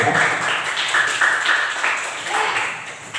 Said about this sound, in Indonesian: boleh tepuk tangan dulu untuk Arya ya